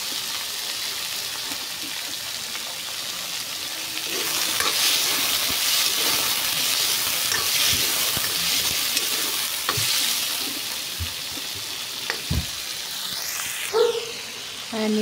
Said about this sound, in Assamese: ধুই লৈ এতিয়া ৰঙালাও ভাজিখিনি বনাই লওঁ